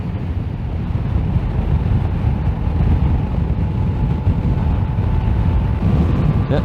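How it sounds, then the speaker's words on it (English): Steady, loud wind roar buffets the microphone while riding a 2020 Yamaha Tracer 900 GT motorcycle at speed, a constant low rumble with no talk over it. "The wind buffeting is pretty bad here."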